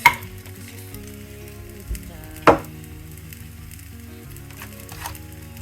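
An egg frying in a pan, a soft, steady sizzle under a faint hum, broken by a few sharp clinks of a utensil against the pan.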